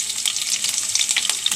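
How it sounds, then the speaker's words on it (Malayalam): Green chillies frying in hot oil for egg curry, with a bright crackling sizzle full of quick pops and spits, close and alone. "പച്ചമുളക് ഇടണം."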